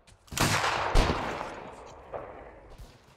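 A volley of rifle fire in Mount & Blade Warband, a loud crackling burst of overlapping shots followed by a second crack and a few scattered later reports fading out.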